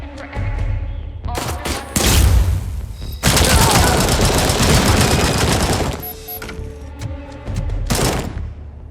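Gunfire in the video game Robocop Unfinished: loud, dense bursts of rapid shots with heavy thuds, one near-continuous stretch of firing in the middle and a final burst near the end.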